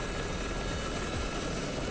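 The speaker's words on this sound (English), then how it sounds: "That is a helicopter." A helicopter in the DCS flight simulator game gives a steady, dense rotor and engine roar with a faint high tone on top, unbroken and without talk.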